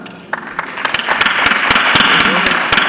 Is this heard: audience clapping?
yes